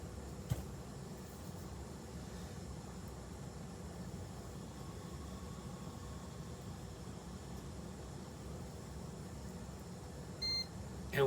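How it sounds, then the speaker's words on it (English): A computer gives a single short beep as it restarts after Windows changes. The beep comes near the end, over a steady low fan hum. "And we have a beep."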